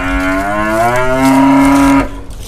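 A single cow gives one long, loud, close moo with a rising then steady tone lasting about two seconds before cutting off, at a Vietnamese rural home.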